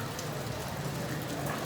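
Rain falls steadily, giving a close, even hiss of drops without pause and with no voices.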